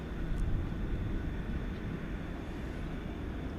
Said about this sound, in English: So we'll get Air Canada first. This will be an Airbus A340 coming in from Montreal